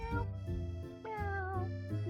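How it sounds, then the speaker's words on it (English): Cartoonish cat meows from a video game's cat-finding level, several distinct tonal mews in quick succession over a steady low background hum, close and fairly loud with no talking. "Why do they all have a unique meow sound?"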